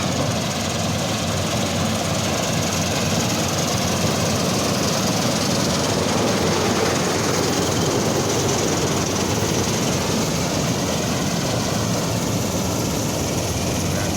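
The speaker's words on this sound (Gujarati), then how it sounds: "હાર્વેસ્ટર મશીન આવી રીતે કામ કરતું હોય છે" A wheat harvester with toothed cutting blades works through a field, a continuous loud mechanical drone and rumble of its engine that holds steady from start to finish.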